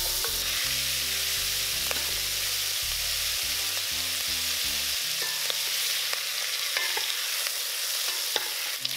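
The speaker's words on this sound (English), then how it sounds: "Transfer in the pork belly and cook on low heat until they are lightly brown." Pork belly sizzles steadily in a pan over low heat, with a continuous frying hiss throughout and occasional light clicks from stirring, alone and without voices.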